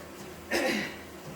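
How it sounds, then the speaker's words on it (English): A single throat clearing, a short rough burst of breathy noise, close and fairly quiet against a soft background. "I clear my throat."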